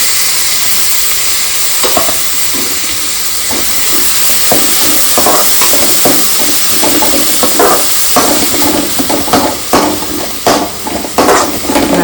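Four medium chopped onions sautéing with cinnamon stick in a hot oiled pan, a loud continuous sizzle with repeated scraping strokes of a stirring spoon growing more frequent toward the end.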